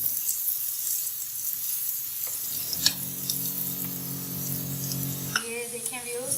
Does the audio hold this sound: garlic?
yes